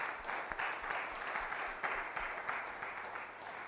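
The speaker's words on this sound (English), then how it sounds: "Let's give a round of applause to them." Applause from a conference audience after a fintech panel session, a steady wash of clapping at moderate distance, fairly faint, continuing for the whole stretch.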